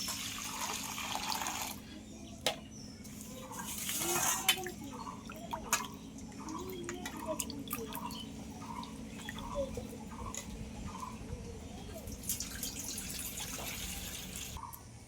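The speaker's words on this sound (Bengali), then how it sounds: "জিরাটা ভালো করে ধুয়ে নেবো" Cumin seeds rinsed under running tap water in a kitchen, a faint continuous trickle broken by soft irregular splashes and drips, with no talking.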